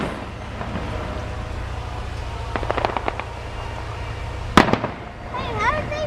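Fireworks finale at Disneyland on the Fourth of July: a steady crackling wash of distant bursts with a sharper nearby bang near the end, while a crowd murmurs throughout.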